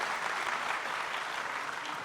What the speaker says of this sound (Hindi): ज़ोरदार तालियों से उसका इस्तकबाल कीजिए।